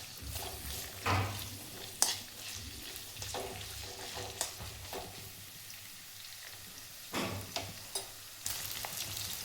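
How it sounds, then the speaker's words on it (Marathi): Bitter gourd pieces fry in hot oil with a steady close sizzle, broken by occasional sharp clinks and scrapes of stirring against the pan. "तेलामध्ये भाजून घ्यायचे."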